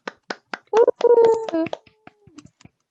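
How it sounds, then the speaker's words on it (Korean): A few scattered, sharp hand claps ring out from a small group of people at a Minecraft server interview, mixed in with a voice talking and humming between the claps. "박수."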